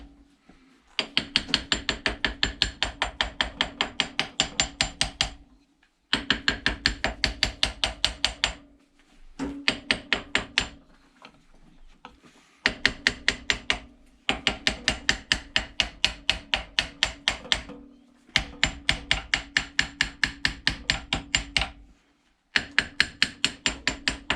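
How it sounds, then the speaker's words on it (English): A hammer taps rapidly and steadily on a 10 bolt axle gear during a rear axle rebuild, in close, bright bursts of strikes separated by short pauses. "going to give it a little tappity tap and let the hammer gently do the work for you"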